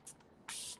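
Fine mist sprayed from a bottle, heard as a tiny puff followed by a longer hissing burst a moment later, both close and crisp against a quiet room.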